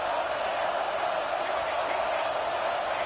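A college football stadium crowd roars steadily as the home defense pins the opponent deep in its own end, a dense, continuous wash of distant cheering with no distinct voices standing out.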